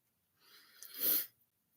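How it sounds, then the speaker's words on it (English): A single sneeze bursting out after a short indrawn breath, fairly close but quiet, with silence on either side. "first sneeze of the day"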